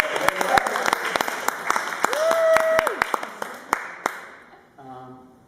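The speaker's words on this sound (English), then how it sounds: "A huge round of applause for Kathy for having us here" Audience applause at an intimate concert, dense clapping filling the room and tapering off toward the end, with a sung or spoken voice tone rising over it midway.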